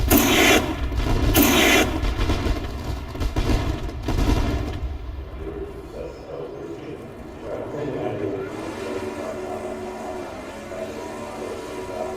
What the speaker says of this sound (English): As we enjoy the fireworks here at the Eldora Speedway, and Rusty Kruger heads to the podium.